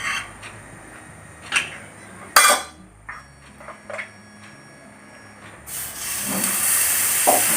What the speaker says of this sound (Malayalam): ഇനി നമുക്കത് പാൻ വെച്ച് ചൂടാക്കി കോരി ഒഴിക്കാം